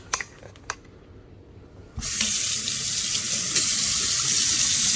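A tap turns on after a few light clicks and sends a loud, steady hissing rush of water into a stainless steel sink for rinsing.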